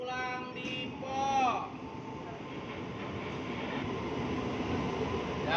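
KRL commuter electric train at a busy station, a steady rumbling rail noise with a brief rising squeal or tone near the start, moderately distant and continuous.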